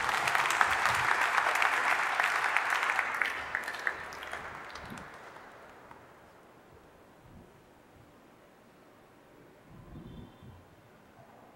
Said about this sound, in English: Let us greet him with a round of applause